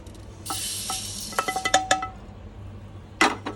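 Toasted sesame seeds are scraped out of a pan onto a plate, giving close, sharp metal clinks and quick scrapes in an uneven cluster, then a brief pause and one last clatter.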